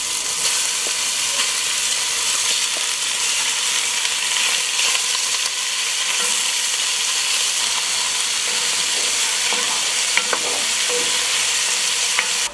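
Pork searing in a hot Dutch oven for Szegedine goulash gives a loud, dense, unbroken sizzle with hissing steam, close up and steady throughout, with a few faint clicks and no voices.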